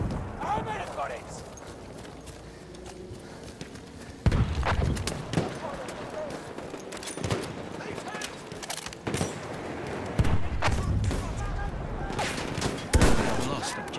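Bursts of machine gun fire and scattered gunshots in Battlefield 1 combat on a Giant's Shadow map, repeated loud cracks over a busy battlefield din with voices calling out.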